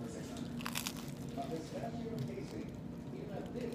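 Someone bites into a turkey, avocado and bacon sandwich, making a few soft, close crunches over faint background noise.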